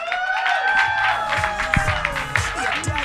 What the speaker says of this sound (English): round of applause for Georgia